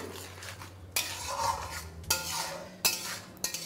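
A spoon stirs spice masala in a pan for a vegetarian potato and cauliflower curry, giving scraping strokes with four sharp clinks against the metal over a faint steady sizzle, close and alone.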